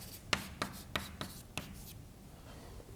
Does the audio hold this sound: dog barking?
no